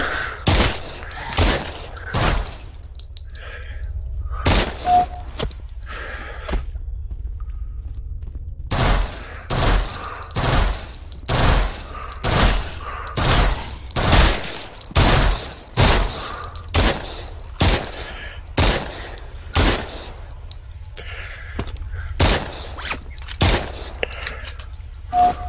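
Bursts of gunfire in the zombie video game SURV1V3, a sewer setting, coming in quick repeated volleys with short pauses between them, loud and close throughout.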